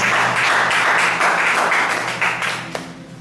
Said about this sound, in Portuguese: Dê ao Senhor uma ligação de palmas